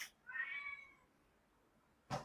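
A cat meows once, a clear drawn-out call heard alone in a quiet room, followed a moment later by a short burst of noise.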